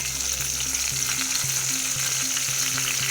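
Chicken fry with curry leaves sizzling steadily in hot oil, a loud, close, continuous frying hiss with low rhythmic pulses, no voices.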